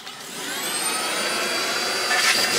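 A Beko VRT6221P cordless vacuum cleaner runs with a steady, loud motor whine and a high airflow hiss that holds constant throughout, rising slightly near the end, with no talking.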